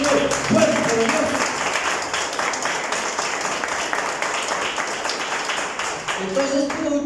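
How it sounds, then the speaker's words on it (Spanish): Church congregation clapping hard and fast in dense, steady applause that fills the room, with brief voices at the start and end. "Den un aplauso fuerte al Señor."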